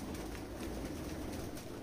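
Pigeons coo softly in a crowded loft, a low continuous murmur of many birds layered together, faint and steady throughout.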